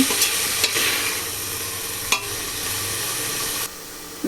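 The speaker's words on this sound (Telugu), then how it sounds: "ఇది బాగా కలబెట్టి ఇది కూడా కొంచెం సేపు వేగాలి." Mutton fries in its own fat in a pan for a curry, with a continuous close sizzle and hiss. It is punctuated by a few sharp stirring scrapes, then settles slightly quieter at the end.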